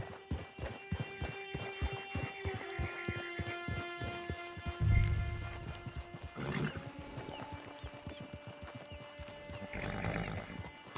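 Horse hooves clip-clop at a steady walking rhythm in the Red Dead Online video game, close and continuous over the ambient game music, with a brief thud partway through.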